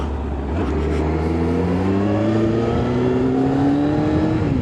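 A Kawasaki GTR 1400 touring motorcycle engine drones steadily while riding, its pitch climbing smoothly through gear changes, loud and close with wind noise throughout.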